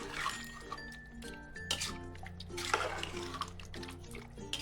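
Water poured into a pot of soaking rice and stirred while making chicken biryani, with clinks of utensils against the pot and a continuous splashing, sloshing flow at close range.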